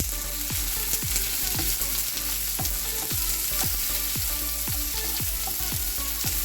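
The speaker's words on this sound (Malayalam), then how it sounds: "ഈ ഒനിയൻസ് നമുക്ക് നന്നായിട്ടൊന്ന് ഒരു ഗോൾഡൻ ബ്രൗൺ ആവുന്ന വരെ നമ്മളൊന്ന് മൂപ്പിച്ചെടുക്കണം." Onions frying in a pan in a Kerala-style home kitchen, with a steady close sizzle broken by regular stirring scrapes about twice a second, loud and continuous with no talking.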